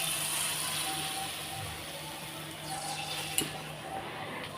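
Cauliflower pakoras frying in hot oil, a soft, continuous low sizzle with faint stirring and a small clink partway through, no talking.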